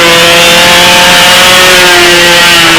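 Model B-25 aircraft nitro engine running slightly rich, a loud, steady, buzzing high-pitched drone held at constant speed throughout, very close, with no talking.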